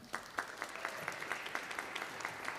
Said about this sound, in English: stay standing so everybody can give you an applause at the end